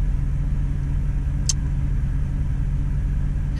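A pickup truck engine at about 104,000 miles idles after an oil change, with a steady low rumble, a quiet even hum and one brief high click.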